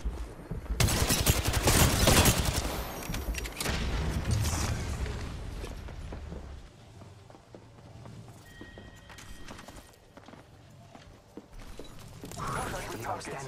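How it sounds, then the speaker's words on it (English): Apex Legends gunfire in a ranked arena match: a dense, loud barrage of shots and impacts for several seconds, easing into scattered mechanical clicks and a final flurry. "Getting shot at"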